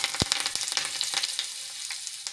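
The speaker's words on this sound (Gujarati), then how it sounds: "બે સૂકા લાલ મરચા એક બાદિયું એક તજનો ટુકડો અને આઠથી દસ મીઠા લીમડાના પાન એડ કરીશું" Hot tempering oil sizzles for Gujarati dal as dry red chilies, star anise, a cinnamon stick, a bay leaf and curry leaves go in. There is a loud initial crackle, then a steady close hiss with scattered pops, and no voices.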